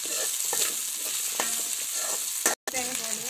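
Small onions (shallots) frying in a pan, a steady sizzle with scattered utensil scrapes and clinks, close, with a brief dropout near the end.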